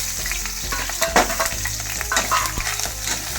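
Ground masala paste sizzles and crackles in hot oil for crab soup, with a steady loud frying hiss and occasional stirring scrapes, no voices.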